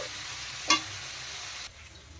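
Jackfruit frying in a pan gives a soft, continuous close sizzle with one brief scrape or knock partway through, then a slightly quieter hiss.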